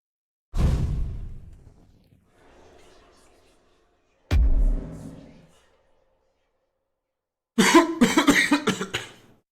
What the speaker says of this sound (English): That's like the first time I've coughed on stream today.